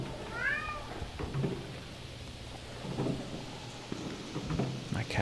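A single cat meows once near the start, high and drawn out, over steady rain and low rumbling thunder in a video game, with the storm continuing afterwards.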